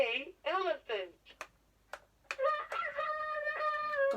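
A LeapFrog Express electronic toy plays a recorded rooster crowing, preceded by a couple of short toy voice phrases and clicks, then a long loud cock-a-doodle-doo with a clear harmonic tone.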